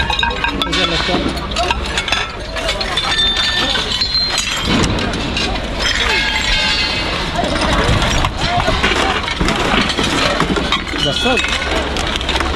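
Glass breaking and clinking amid discarded items while dumpster diving, a dense, loud, continuous clatter of shards and knocks throughout, with voices talking over it.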